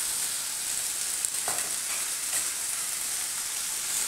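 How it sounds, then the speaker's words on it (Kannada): Vegetables and thick potato pieces fry in oil for a hotel-style veg biryani, giving a steady, close sizzle with a faint stir or two and no talking. "ವೆಜಿಟೇಬಲ್ಸ್ ಎಲ್ಲ ಚೆನ್ನಾಗಿ ಫ್ರೈ ಆಗಲಿ."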